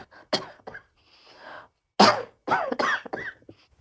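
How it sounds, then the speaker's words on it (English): A few sharp coughs from one person, close and fairly loud, separated by short pauses with a quieter breathy sound between them. "I want to tell you why I cough"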